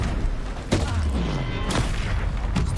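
Fire-spell blasts in Hogwarts Legacy combat: several sharp booming impacts land about a second apart over a busy rumbling background of battle noise.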